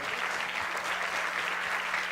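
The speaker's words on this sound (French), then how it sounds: "Qu'on les applaudisse bien fort, s'il vous plaît." Steady audience applause fills a French heritage awards gala, a dense continuous patter of clapping hands that holds at even strength throughout with no voices over it.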